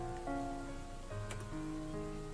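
Rain falls steadily in a game scene, a soft even hiss that carries on without a break, with tonal game music laid over it.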